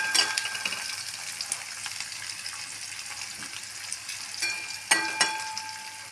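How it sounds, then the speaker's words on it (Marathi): Onion sizzling and frying in hot oil in a pan while making pasta, a steady close crackle with occasional stirring scrapes and brief louder pops toward the end. "इथे मी कांदा तेलामध्ये घातलेला आहे."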